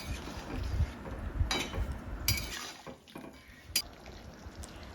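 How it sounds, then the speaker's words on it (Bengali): A pot of curry made with green jackfruit and small fried fish simmers with a faint, steady bubbling hiss, broken by a few soft clinks of a utensil against the pan. "এবার কিন্তু আমি এঁচোড় মাছ ভালো করে ফুটিয়ে নেব।"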